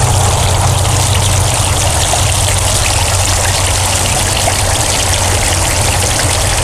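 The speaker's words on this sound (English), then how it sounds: "A lot of water streaming over those rocks, so you get a lot of sound off of that." Water streaming over the rocks of a five-stack spruce-base waterfall fountain makes a constant, loud, close rushing splash with no pauses or voices.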